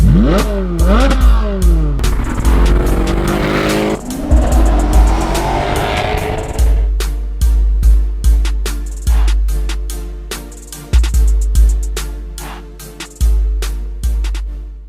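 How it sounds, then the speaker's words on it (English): A car picked up in Miami revs loudly and accelerates hard, climbing and dropping in pitch through gear changes, followed by a long run of sharp, rhythmic bursts and pops close to the microphone. "we finally picked up the"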